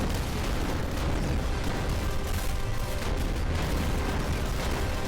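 Continuous dense barrage of explosions and booming blasts in the video game Executive Assault 2, loud and sustained with no pause, layered rumble filling the whole stretch.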